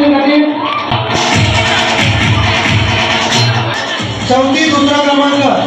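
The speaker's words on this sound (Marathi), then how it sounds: "जोरदार टाळ्या वाजवायच्या या विद्यार्थ्यांसाठी" A crowd applauds students at an Independence Day prize-giving ceremony in Dapode village, Bhiwandi taluka. The clapping and cheering are loud and steady and run the whole time, with an amplified voice speaking over them.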